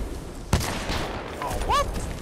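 A pistol fires once, loud and close, in Titanfall 2 on Xbox One, a sharp crack followed by faint game effects and a brief rising whistle-like tone.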